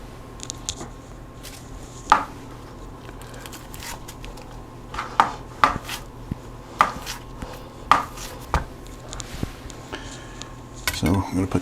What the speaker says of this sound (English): I'm going to take the onion, give it a rough chop.